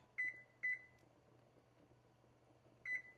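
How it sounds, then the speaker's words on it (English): Three short electronic beeps from a kitchen timer being set while ramen with spinach and egg is cooked, two close together and then a third after a pause, heard over a low steady hum. "Just gonna set those in a timer for 4 minutes."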